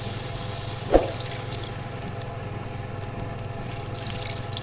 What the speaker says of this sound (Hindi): ये मैंने उसी बॉल में पानी डाल लिया।